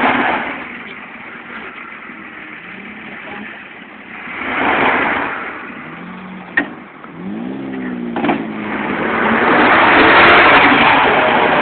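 Two-wheel-drive trucks in a truck pull, one a 5.4-liter Triton V8 automatic against a 5-speed: a muffled, sustained engine drone that swells and revs with straining pitch as the tires spin, plus a few sharp knocks.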